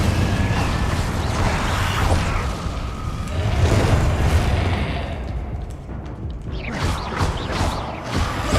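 Incendio, a fire spell in the game Hogwarts Legacy, is cast amid combat, with loud booming blasts, crackling bursts and mechanical rumbles running continuously up close.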